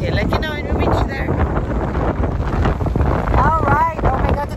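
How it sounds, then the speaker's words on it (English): Strong wind at a golf club in Bahrain buffets the microphone in continuous loud gusts, with a boat-like rumble underneath and brief warbling tones. "today is a very windy day"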